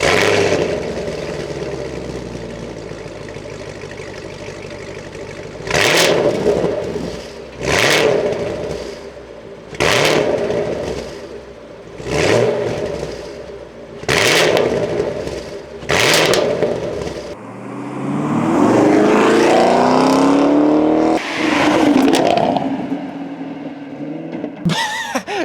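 A car engine idles roughly, then revs sharply five times in a steady rhythm, followed by a longer sustained rev that climbs and falls.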